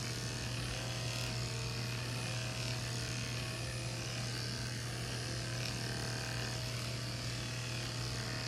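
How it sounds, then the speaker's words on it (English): Electric dog clippers running on low while grooming a Lhasa Apso, giving a continuous, even buzzing hum at moderate level throughout. "The blade is still cool because I'm using the clipper on low."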